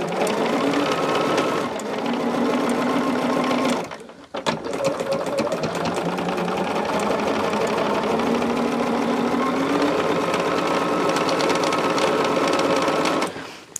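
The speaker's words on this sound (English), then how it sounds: "now we'll sew another triangle on the opposite side" A sewing machine stitches a cotton fabric triangle onto a quilt block, running loud and steady with a fast mechanical whir, pausing briefly twice before carrying on nearly the whole time.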